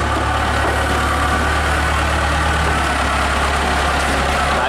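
A heavy diesel log loader engine idles steadily with a deep, constant rumble, close by and unbroken throughout.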